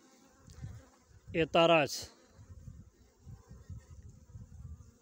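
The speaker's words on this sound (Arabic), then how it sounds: "يقدر يسوس النحل في الخلية اللي هي الأم" Honey bees buzzing around a hive during a colony split on a sunny February day, a low, steady drone throughout, briefly under a short spoken word.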